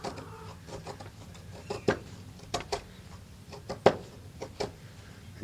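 A knife shaves fine curls from resinous pine fatwood, giving several close, crisp scraping strokes in an irregular rhythm over faint background noise.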